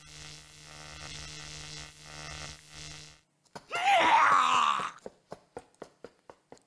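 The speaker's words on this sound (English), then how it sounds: "Firing the stun gun once more does the trick" A stun gun fires in the Steins;Gate video game, a loud, sustained electric zap after a low humming background, followed by a series of sharp, evenly spaced clicks.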